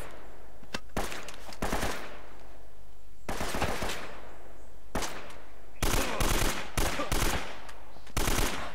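Gunfire in the video game Uncharted: Drake's Fortune, pistol and AK rifle shots in several loud, sharp bursts and rapid volleys with short quiet gaps between them.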